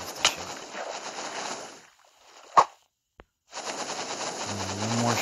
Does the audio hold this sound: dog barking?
no